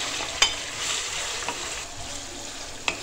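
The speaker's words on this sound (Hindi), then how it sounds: "थोड़ी देर के लिए लहसुन को हम भूनेंगे" Garlic frying in hot oil before liver goes in makes a steady close sizzle, broken by a few sharp clinks of a stirring utensil against the pan.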